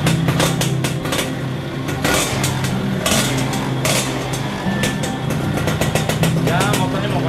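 A Yamaha F1ZR motorcycle engine starts, then revs and runs loudly and steadily, with clanking mechanical knocks and a person talking over it.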